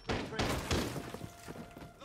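Breaching charge going off in Rainbow Six Siege, a dense burst of thuds and crashing debris across the whole clip, several heavy impacts in quick succession at close range, loud and cluttered with a low hum behind.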